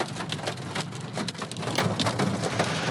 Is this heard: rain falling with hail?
yes